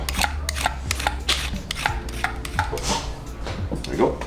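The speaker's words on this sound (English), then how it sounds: "Just want to peel off some of the tougher outer layers because obviously you can see like all the fibers on it." Crunchy vegetable for a fresh Greek salad, its tough fibrous outer layers peeled and cut: rapid close crisp snaps and knife taps on a board in an irregular run, with faint scraping between.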